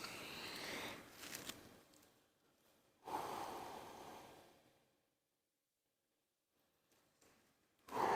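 Slow, deliberate breaths during a smooth spine, shoulder and hip rotation drill for golfers, a couple of soft breathy inhale and exhale bursts separated by a long silent pause, close and quiet with no talking.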